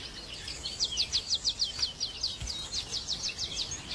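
A wild canary sings outdoors, a fast rhythmic series of bright, high trilled notes repeated in quick pulses, moderately close over faint background hiss.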